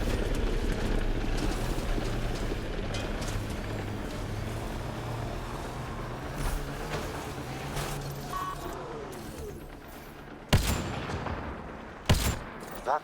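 Gunfire aimed at a Ket device in Mass Effect Andromeda, two sharp shots near the end after a long stretch of steady ambient rumble and game sound.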